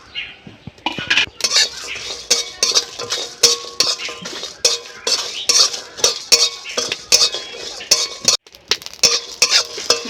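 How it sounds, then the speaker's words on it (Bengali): Whole coriander, dried red chillies, cinnamon, cardamom, cloves, cumin and cashews dry-roasting in a dry pan, a spoon scraping and clinking against the metal in quick repeated strokes with a faint sizzle underneath, close and fairly loud. "এই যেখানে নিয়েছি গোটা ধনে, শুকনো লঙ্কা, দারচিনি, এলাচ, লবঙ্গ, আর এখানে নিয়েছি কাজু বাদাম আর গোটা জিরে, সব একসঙ্গে শুকনো খোলায় ভেজে নেব"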